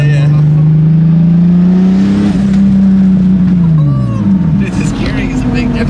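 A turbocharged M54-powered BMW E46 drift car with a Ford 8.8 rear end pulls away down the road, engine droning loud and close, pitch climbing through a gear, dropping at a shift, then rising again.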